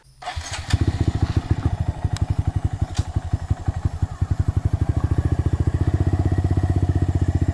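A Honda Monkey 125 with an aftermarket full exhaust fires up and runs with a deep, loud, rapid-firing exhaust rumble that pulses steadily and builds as the bike rides off close by.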